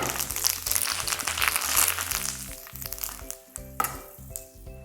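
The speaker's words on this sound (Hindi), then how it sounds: "अब हल्की आंच पर उड़द दाल को भूनें जब तक कि वो ब्राउन ना हो जाए" Urad dal, dry red chillies and curry leaves sizzle steadily in hot oil over a low flame, with the crackle and spatter continuing throughout and occasional stirring scrapes, loud and close.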